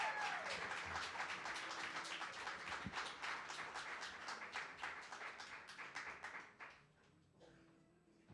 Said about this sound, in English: y'all help me welcome to the stage through a round of applause